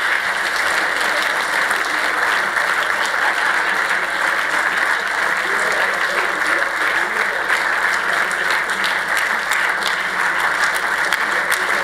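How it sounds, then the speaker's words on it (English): A conference audience claps steadily for sponsors and partners, a dense, continuous wash of applause holding at the same loud level throughout, with no individual voices standing out. "And a big applause for these people"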